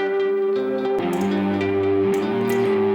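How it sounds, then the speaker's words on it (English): Short looping electric guitar phrase with distorted guitar layered in, played through an effects chain, loud and steady with sustained droning tones and a few plucked accents. "I have a short guitar loop so we can demonstrate with it"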